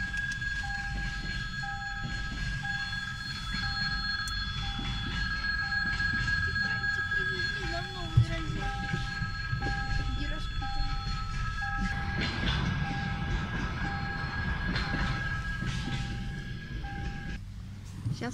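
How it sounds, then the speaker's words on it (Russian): A train passes by on a golden autumn outing near Saint Petersburg, giving a steady rumbling roll with a repeating warning tone and ringing bell over it, heard from nearby and continuing for a long stretch. "Смотри, поезд какой!"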